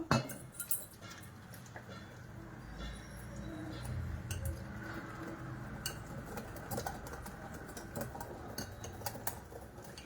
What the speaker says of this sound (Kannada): ಈ ಥರ ಚೆನ್ನಾಗಿ ಕಲಿಸ್ಕೊಳ್ಬೇಕು.